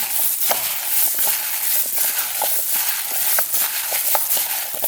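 Raw chicken wings tossed and stirred together in a bowl for crispy BBQ wings, giving a steady wet, sticky squelching and clicking with scattered small slaps, close up and continuous with no talk.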